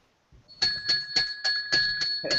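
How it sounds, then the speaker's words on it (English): A bell rung at noon to open a live hockey show on free-agent day, about eight loud, evenly spaced bright strikes with ringing tones, close and alone. "It is noon. Ring the bell."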